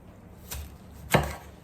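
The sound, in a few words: chopping carrot and broccoli with a knife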